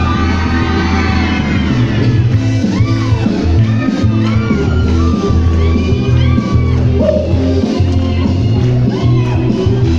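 A concert crowd of girls at an open-air plaza show shouts and whoops loudly and continuously over booming music, with a cheering roar filling the whole stretch.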